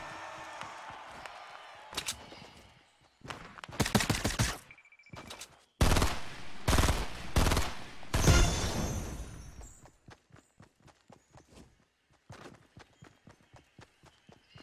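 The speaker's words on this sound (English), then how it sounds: "Now they're shooting at me." Gunfire in a Fortnite match: bursts of shots crack in clustered volleys for several seconds, then give way to a steady, lighter patter of repeated footsteps or shots toward the end.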